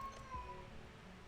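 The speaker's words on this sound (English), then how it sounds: "Cat noises." A cat's meow, brief and faint, rises through a steady background hum; no one speaks over it.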